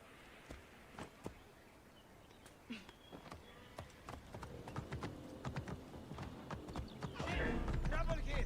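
Horse in Assassin's Creed Origins, hooves clip-clopping at first sparse and quiet, then quickening into a steady louder gait, with a neigh, faint clicks and a spoken voice in the background.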